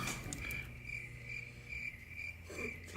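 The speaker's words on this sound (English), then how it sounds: "Crickets." Crickets chirp in a steady, high trilling pulse, soft and continuous in an otherwise quiet setting.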